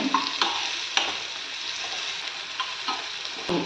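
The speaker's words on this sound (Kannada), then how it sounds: "ಕ್ಯಾಪ್ಸಿಕಮ್ಮು ಮತ್ತು ಈರುಳ್ಳಿ ಎಲ್ಲ ಫ್ರೈ ಆಗ್ತಾ ಇದೆ" Capsicum and onion frying in a pan, a steady close sizzle with a few sharp spatula clinks and stirring scrapes spread through it, with no voices.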